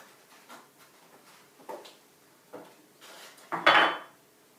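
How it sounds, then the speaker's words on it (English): Two eggs are cracked into a cup in a home kitchen: soft taps, then a louder, sharper crack and clink near the end, close and without talking. "Then I'm going to break in 2 eggs."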